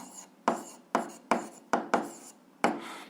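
Pen strokes scratching across paper while an algebra exercise is worked out, coming as five or six short, distinct bursts of writing with brief pauses between them, close and fairly quiet.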